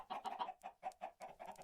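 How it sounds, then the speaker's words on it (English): Chickens in a video game cluck in a quick, uneven series of short, nasal calls, fairly faint and with no voices over them. "I got a bunch of chickens"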